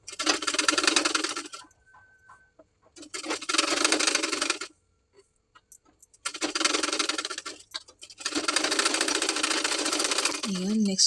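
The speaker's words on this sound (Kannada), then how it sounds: "ಈಗ ಈ ಮೇಲ್ಗಡೆ ನೆಕ್ಕಿಗೆ ಒಂದು ಸ್ಟಿಚ್ನ ಹಾಕ್ಕೊಳ್ಬೇಕು." A sewing machine stitches a blouse back neck in loud, close bursts of rapid mechanical whirring, four runs broken by short quiet pauses, with a brief low voice near the end.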